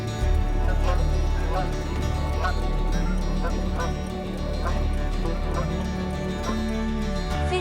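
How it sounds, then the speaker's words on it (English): A goose honks repeatedly among other fowl, a busy run of short, nasal calls over a continuous background hum, fairly close and steady throughout. "Goose. Ganso."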